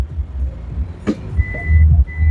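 Two short, high electronic reversing beeps from a 2008 Toyota Fortuner with an aftermarket 9-inch Android screen sound over a low engine rumble, with a brief click between.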